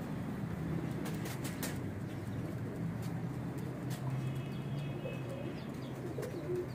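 Pigeons coo softly in low, intermittent murmurs over a steady background hum, with a few faint clicks and flutters scattered through.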